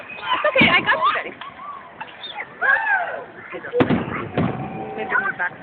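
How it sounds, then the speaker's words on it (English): Big Canada Day fireworks in Victoria, BC boom and crackle in a series of loud, sharp bursts with crowd voices chattering nearby between and over the explosions. "Look at that, the fireworks! Those are the big booms!"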